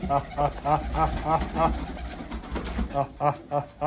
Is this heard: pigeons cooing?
yes